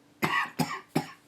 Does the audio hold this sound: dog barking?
no